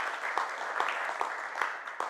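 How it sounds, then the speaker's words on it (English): Small group at a virtual charity lunch applauding, light steady clapping with a few sharper claps standing out, moderately quiet and without speech. "Clap for her."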